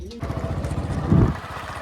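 A motorbike starts off from a village home, its engine putting with a quick regular pulse that swells briefly as it pulls away, while a voice speaks over it.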